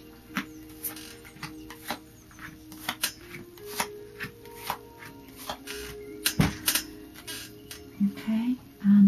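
Tarot cards being laid down on a table during a psychic reading: a series of soft, separate card taps and slides, spaced irregularly and fairly close, with light handling noise between them.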